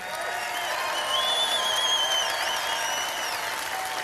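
A crowd applauds steadily, a dense wash of clapping with a few whoops and whistles rising above it, sustained for several seconds.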